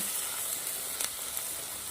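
Green chillies and onions sauté in hot peanut oil already seasoned with mustard seeds, cumin and asafoetida, giving a steady close sizzle and crackle with a couple of brief louder spits and no talking.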